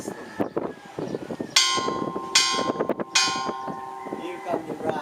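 Church bells ringing in the Bantay Bell Tower in Vigan, Ilocos: three loud, resonant strikes with long ringing overtones, layered over background chatter and voices nearby.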